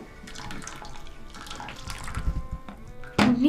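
Water sprayed to rinse the side of an animal trough, a continuous hissing splash that swells into a louder gush at the end, heard close up.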